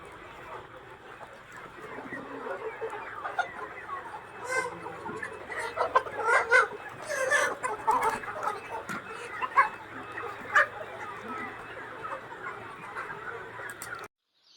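A crowd of Sonali parent chickens clucks and murmurs continuously at moderate distance, a dense busy chatter with occasional louder calls standing out.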